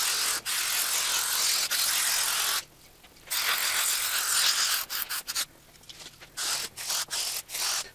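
Adhesive applicator spreading glue over plywood while running low, giving loud broadband scraping and sputtering bursts, broken by short quiet gaps and rapid ratchety clicks near the end, with no talk.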